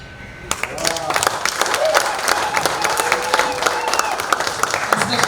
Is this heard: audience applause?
yes